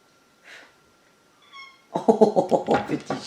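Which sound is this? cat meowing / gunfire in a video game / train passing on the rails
cat meowing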